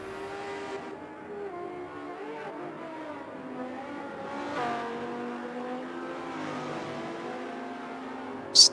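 Audi GT race car in a sim racing game, an engine drone rising and falling through the gears at moderate distance, fairly quiet with a brief sharp burst at the end.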